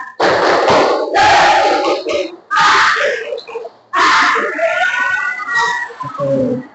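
A school class chants the 'tepuk semangat' spirit cheer in loud, energetic bursts of shouting voices, with several rhythmic phrases separated by short pauses, close and dominant.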